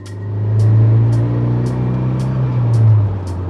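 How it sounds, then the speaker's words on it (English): Renault Megane Trophy-R engine idling steadily while warming up, a close, continuous low rumble with a slight swell in level and faint periodic ticks above it, with no one talking. "whilst we're waiting for the car to warm up"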